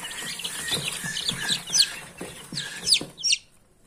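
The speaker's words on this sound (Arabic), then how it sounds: "كل الفراخ اهيت قدامكم، كل الكتاكيت قدامكم. الكتاكيت دي عمر 7 ايام" Seven-day-old Hijazi chicks peep and chirp in a rapid, irregular stream of high, thin calls, close and fairly loud, tapering off near the end with no talking.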